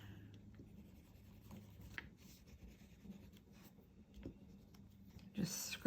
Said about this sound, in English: So I'm going to add some gelato over it